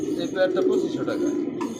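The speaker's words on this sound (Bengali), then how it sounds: "অসাধারণ এক কবুতর" Pigeons at a breeding pad with eggs and chicks give soft, low continuous cooing, close and steady throughout, with a voice talking over it.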